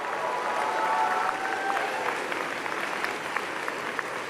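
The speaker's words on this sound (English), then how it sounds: "please reciprocate by applauding your family, friends, faculty, and staff" A graduating class claps at a university convocation ceremony, the steady applause filling the hall at moderate volume and thinning slightly toward the end, with a few faint voices mixed in.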